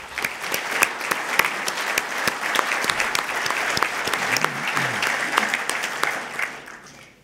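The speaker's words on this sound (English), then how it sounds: "let's give them a round of applause" Audience at an aviation safety symposium on rotorcraft and VTOL applauding, a dense steady clapping from a medium crowd that fades out toward the end.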